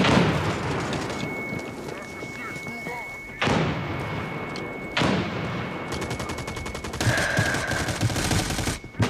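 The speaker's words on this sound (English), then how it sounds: "Get cover, grenade!" Grenade explosions in the shooter America's Army: Proving Grounds go off as sharp, loud blasts, with several sudden bursts followed by decaying rumble and a crackle of gunfire, while voices call out over the action.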